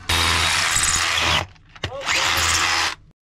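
A power drill sets a rock bolt in a cave, with two loud, close bursts of whirring motor separated by a brief pause and a clunk.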